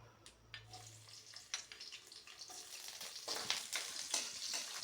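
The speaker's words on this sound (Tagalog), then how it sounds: "Ayan, magigisa tayo ng luya." Ginger sizzling and frying in a hot pan, with steady crackling spatter and occasional stirring scrapes, close and moderately loud, building slightly as it cooks.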